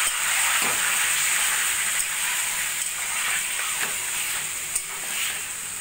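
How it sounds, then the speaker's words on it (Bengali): Marinated chicken fries in hot oil with bay leaf, cardamom, cinnamon, cloves, nutmeg and mace for shahi chicken korma, a steady close sizzle and hiss with a few light stirring knocks. "চিকেন এইভাবে তেলের মধ্যে কিছুক্ষণ ভাজা ভাজা করে নেব।"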